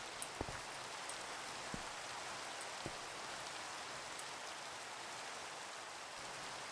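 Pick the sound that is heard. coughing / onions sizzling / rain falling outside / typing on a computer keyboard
rain falling outside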